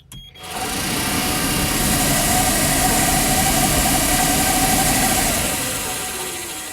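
The defrost fan on a vintage GM bus spins up on its high setting, a loud steady whirring drone with a rising tone that holds for several seconds, then begins to slow and fade.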